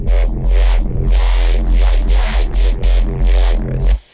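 Neurofunk reese bass made in Serum, with a notch filter applied to tame its harsh top end: a loud, growling, buzzing tone that pulses in repeated swells and runs alone for about four seconds.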